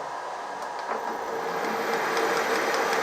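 A 16U04P metal lathe turning a chuck jaw at higher spindle speed, giving a steady, moderately loud mechanical hum and whir with faint intermittent ticks and no talking.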